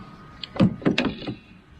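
Several close thumps and latch clunks from a car door being handled, a brief cluster of knocks with no voices.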